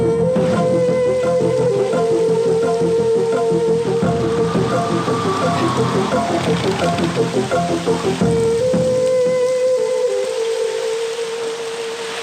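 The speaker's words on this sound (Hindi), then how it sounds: "इतनी बारिश में? बहुत जोर से हो रही है सर।" Heavy rain pours steadily over a film scene, a dense continuous wash that stays loud throughout, with a sustained musical drone layered on top and no talk.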